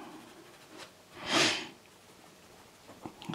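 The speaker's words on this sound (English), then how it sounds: "excuse me, sniffling." A single sniffle, close and fairly loud, rises and fades around the middle of an otherwise quiet stretch, with faint room noise and small rustles on either side.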